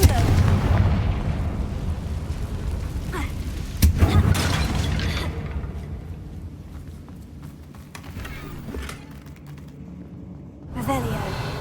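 A Confringo blast spell in Hogwarts Legacy goes off near a damaged bridge: a loud booming burst with crackling debris, then a second impact around four seconds, trailing into rumble and scattered cracks, with a fresh swell near the end.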